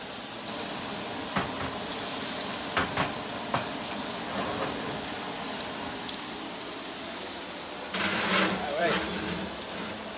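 Steaks sizzling in a hot pan on the stove, a continuous crackling hiss with a few clattering knocks and a louder burst near the end, with some talking mixed in.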